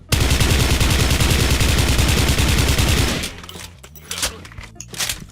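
Sustained automatic fire from an M4A1 SOPMOD rifle in Special Force 2 hammers out as a loud, rapid, even burst for about three seconds, then stops and gives way to scattered faint clicks and knocks.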